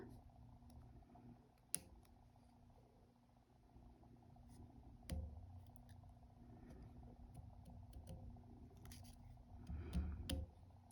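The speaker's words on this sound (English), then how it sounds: "So they're doing a pretty good job of cutting the perforated paper." Small Gingher embroidery scissors snip through perforated paper, giving faint, sparse clicks and cuts at a close distance against quiet room noise, with a few sharper snips spaced out over the stretch.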